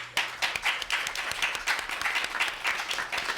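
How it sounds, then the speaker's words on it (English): Audience clapping at a Charlottesville city council meeting, a fairly quiet but steady round of individual claps in quick rhythm, with no talking over it. "Let's give him a round of applause."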